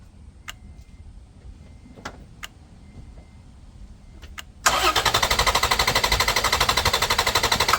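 Quiet near-silence with a few faint clicks, then a loud rapid cranking as a car engine, powered by an Autoone JS02 6000A jump starter, turns over in a steady, fast rhythm without catching, close by.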